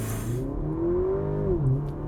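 2023 Porsche Macan T with a 2-liter turbo four-cylinder launching hard under launch control, engine note rising steadily in pitch through the rev range, then dropping briefly as it shifts, close and loud with no talk.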